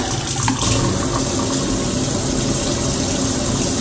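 Water running steadily from a kitchen faucet in a small finished house, a loud, close, constant gush and splash that goes on without a break.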